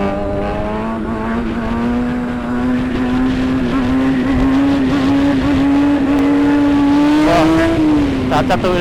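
A motorcycle engine revs steadily during a wheelie on a Jakarta street, its clutch plates somewhat worn. The close, loud drone holds for several seconds, then climbs in pitch near the end before easing off.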